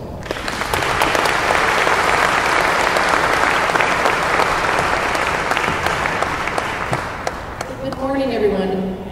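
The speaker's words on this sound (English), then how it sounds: "Please give her a warm applause." A keynote event audience gives sustained, dense applause that holds steady for several seconds, then fades as a voice begins speaking at the close.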